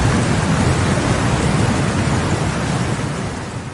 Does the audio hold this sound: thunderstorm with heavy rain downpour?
yes